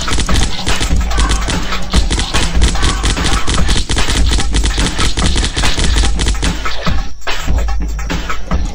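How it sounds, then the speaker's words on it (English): Rapid assault rifle gunfire in a zombie video game, a loud, dense stream of shots that fires almost without pause, with only a short break near the end. "Assault rifle."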